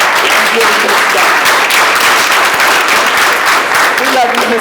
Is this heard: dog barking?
no